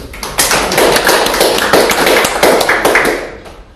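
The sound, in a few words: audience clapping to open the meeting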